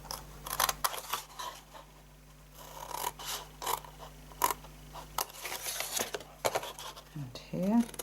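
Scissors snip card stock while a crafter makes a mini cookie box, a few quiet close cuts and small clicks over a faint hum.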